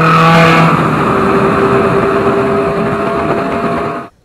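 A Ferrari 360 Challenge Stradale's large naturally aspirated engine drones loudly and steadily with a high harmonic whine, holding for about four seconds before cutting off abruptly.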